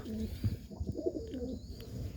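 A pigeon gives a few soft, rolling coos close by, with faint background noise and no talking.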